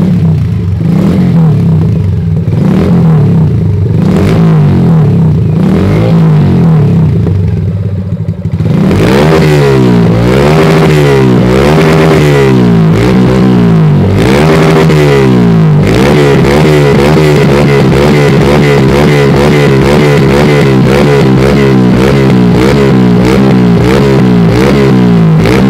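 Car engine with a sports exhaust revving hard and loud, up close, in repeated rising and falling bursts and then a sustained high rev, with no voices.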